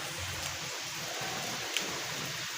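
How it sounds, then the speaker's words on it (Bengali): Steady heavy rain falls outdoors during a rainy day, a continuous soft hiss of downpour with no voices, heard from indoors at a moderate distance. "বাইরে কত বৃষ্টি হচ্ছে, প্রতিদিন এরকম বৃষ্টি।"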